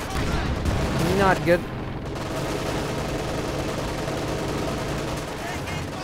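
Battle din from Company of Heroes 2, a wartime strategy game with Panzer tanks, T-34s and anti-tank guns: dense rolling gunfire and heavy booms fill the whole stretch, with a brief voice speaking over the fighting early on.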